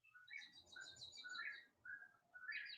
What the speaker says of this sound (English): I have an owl out there